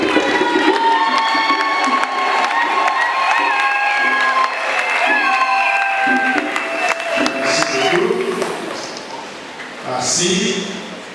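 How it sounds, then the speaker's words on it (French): A church congregation at a new priest's first Mass applauds his parents: sustained crowd clapping with cheers and children's shouts, layered under music and voices, swelling again near the end. "veuillez vous lever, qu'on applaudisse pour eux"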